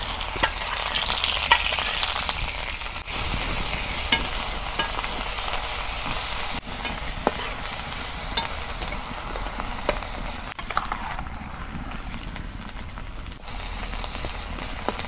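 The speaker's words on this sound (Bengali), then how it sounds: "তেল গরম হচ্ছে, এখন আমি পেঁয়াজ বাটা দিয়ে দেব।" Onion paste frying in hot mustard oil in a village kitchen, cooked as the base for beef tripe. A steady, close sizzle runs throughout, broken by sharp clinks and scrapes of stirring, with no talking.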